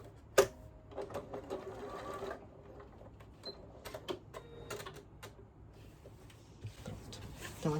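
A domestic sewing machine stitches a panettone holder in short whirring bursts with pauses between them, and light handling clicks come close by.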